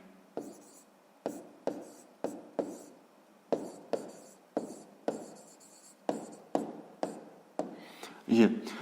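Pen strokes scratch out an answer by hand in a fifth-grade maths exercise, a steady series of short distinct scribbles close by, over a quiet background.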